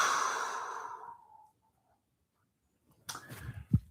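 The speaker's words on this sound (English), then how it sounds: "Exhale." A long, deep exhale during a breathing exercise in a movement practice, loud at first and trailing off over about a second and a half, then silence before some rustling and a soft thump.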